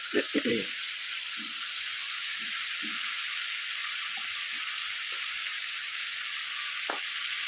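A red spice masala for a vegetarian curry fries in a pan with a steady, broad sizzle throughout, broken by a few soft scraping stirs early on and a faint clink near the end.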